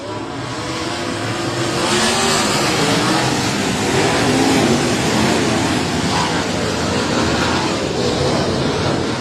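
Outlaw sprint cars at Heart O' Texas Speedway roar off the start of a 25-lap race, a dense, loud, continuous engine din from the packed field filling the whole stretch without letup.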